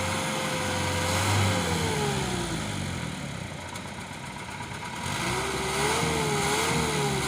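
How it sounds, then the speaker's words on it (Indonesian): An Isuzu ELF truck's engine runs steadily after being restarted, with a low continuous drone and some rising and falling revs, heard close and alone throughout. "Ini Isuzu ELF mati mesin ya. Sudah beberapa kali di start. Nah, dan ini sudah di start hidup kembali."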